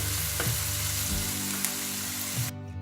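Poha seasoned with salt and turmeric is stirred in a hot pan, giving a steady close sizzle broken by a few soft scraping strokes, with no voices.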